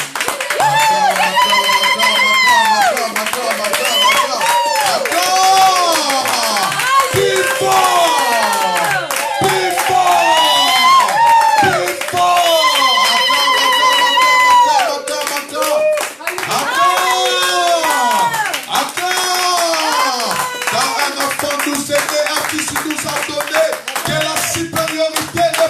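A church congregation claps steadily and cheers for the Lord, with loud, dense applause and shouts that continue throughout a lively worship gathering.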